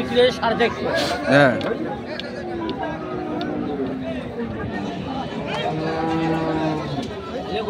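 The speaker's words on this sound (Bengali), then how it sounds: "গরু" Cows low at a busy cattle market, with one loud nearby moo early on and further drawn-out calls later, all under the steady chatter and talk of traders and buyers.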